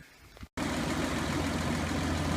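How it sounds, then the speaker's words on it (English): The 2F petrol engine of an FJ45 Land Cruiser, running on gas, cranks briefly, cuts out for a moment, then catches and settles into a loud, steady, rough idle close by. "There she is running, 2F petrol, running on gas at the moment."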